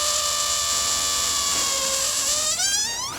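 A voice imitates a car's starter motor cranking, a continuous whirring, grinding drone that holds steady for about three seconds, then rises and wavers toward the end, loud and close with no other talk.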